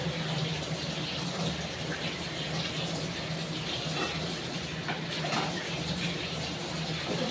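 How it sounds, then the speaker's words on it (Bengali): Water poured into a cooking pan, a continuous rushing gush at moderate level lasting the whole stretch. "জল দিয়ে দিই।"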